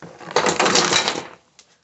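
Oysters drop into a pot of boiling water for poaching, a close, loud burst of splashing and bubbling that lasts about a second, then stops, followed by a faint clink.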